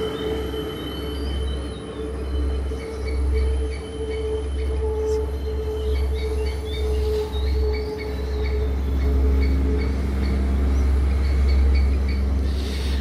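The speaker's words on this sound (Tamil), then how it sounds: "ஸோ ட்ரெயின் அங்கிட்டு போகுது, அப்படியே ட்ரெயின் சத்தம் கேட்கும்." A train in Sri Lanka rumbles past at a steady distance, low heavy drone with faint rhythmic clacks and some high metallic tones, continuous for the whole stretch.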